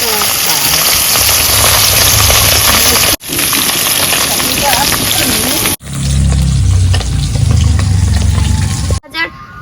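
Flipped katla fish pieces fry in oil with a loud, dense crackling sizzle that runs in three segments split by short cuts, the last one calmer and quieter, close up.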